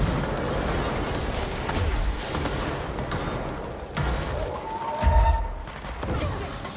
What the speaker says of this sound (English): Holy crap, everything is exploding.